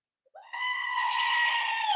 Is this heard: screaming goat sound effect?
yes